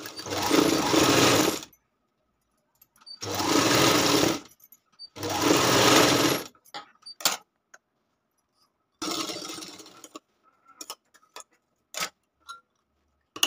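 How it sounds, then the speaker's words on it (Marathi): Domestic sewing machine stitching the lining of a katori blouse, loud close bursts of rapid whirring three times in a row, then a pause with small clicks and handling taps before a shorter run and scattered light knocks. "आता याच्यावरच आपल्याला शिलाई चालवायची."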